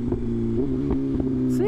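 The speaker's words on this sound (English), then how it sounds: "I don't even have to do anything for the exhaust to pop." BMW M1000RR motorcycle idling close by with a steady engine drone, broken by a few short exhaust pops and a quick rev at the end, with a voice talking over it.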